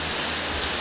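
Heavy rain in Meghalaya pours in a dense, steady hiss of drops on nearby surfaces, constant and loud throughout the brief stretch, with no voices.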